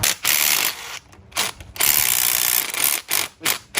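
Ratchet wrench clicking in several quick bursts as suspension bolts on a BMW 340i xDrive are loosened, loud and close with brief pauses between runs.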